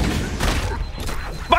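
Grenade blast in Halo: Combat Evolved, a deep rumbling boom with a dense low-end thud that lingers and trails off, under an excited voice and game noise.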